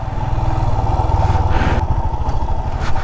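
A Royal Enfield Himalayan motorcycle with its stock exhaust idles close by, a loud, steady low thumping beat with a brief rev swelling midway.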